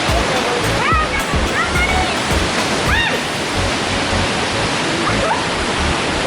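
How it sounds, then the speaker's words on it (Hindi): A waterfall at Madosuli roars steadily and loud throughout, a dense rushing wash of falling water with faint chirps of birds rising over it. "ये देखिए वाटरफॉल चल रहा है, वाटरफॉल है माडोसुली का"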